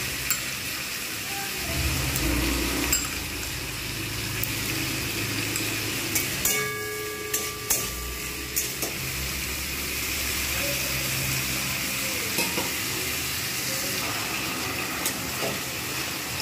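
Ginger garlic paste sizzles and is stirred in a pan for a fish curry with potatoes and long beans, a moderate steady frying hiss broken by a few clinks of the spoon against the pan.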